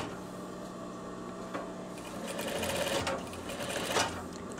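A sewing machine runs steadily, stitching and backstitching across the opening of a pocket on a veterinary coverall. The motor hums continuously at close range, rising slightly in speed toward the end, with no talking.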